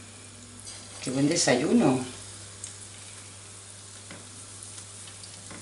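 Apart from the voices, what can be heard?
torrijas frying in hot oil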